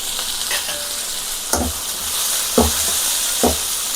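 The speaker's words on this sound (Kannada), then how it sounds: "ಇದನ್ನೆಲ್ಲ ಚೆನ್ನಾಗಿ ಫ್ರೈ ಮಾಡಬೇಕು." Small pieces of dried coconut frying in a pan over a low flame for a Kannada-style sambar, a steady sizzle with three or four sharp stirring scrapes spaced through the clip, close and with no talk.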